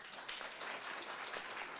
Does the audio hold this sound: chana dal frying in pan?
no